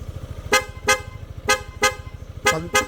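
Aftermarket Corsa horn fitted to a Yamaha XMAX300 scooter sounds in six short, loud, sharp blasts in an uneven rhythm over a low engine idle.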